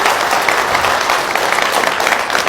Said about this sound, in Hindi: एक बार जोरदार तालियां हमारी ऑर्गेनाइजेशन के लिए होना चाहिए।